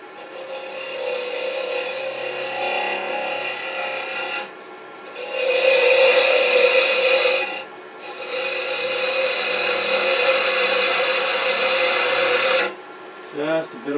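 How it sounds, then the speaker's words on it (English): A spindle gouge rounds over a spinning wood block on a lathe, a steady rasping scrape in three long passes with short pauses between, loud and close. "Let's round this over with a spindle gouge."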